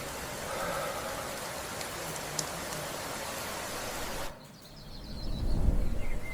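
Steady rain hiss in a generated video, a broadband wash of falling drops that cuts out abruptly near the end before a low rumbling noise swells back in.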